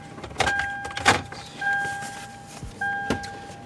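A Lexus LX switched on with its power steering column motoring out of the way, giving several short electric whirs with brief chimes between them, close and fairly quiet in a still cabin.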